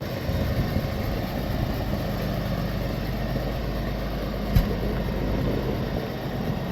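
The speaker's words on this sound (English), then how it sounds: "When you throttle up and give it the RPM, it actually runs really smooth." Large engine running steady at high RPM while driving a very big auger: a dense, continuous, smooth drone with one brief knock partway through, no voices.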